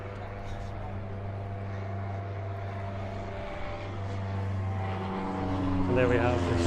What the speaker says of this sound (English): And there we have the shark spotting plane.